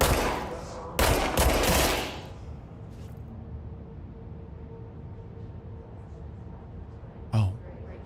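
Gunshots in the game Control, a short loud burst of rapid fire, then quiet ambient hum and one more single shot near the end.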